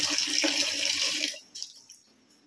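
Water gushes loudly into a washing machine under repair for low water flow, a strong steady rush that cuts off after about a second and a half, leaving a few faint drips.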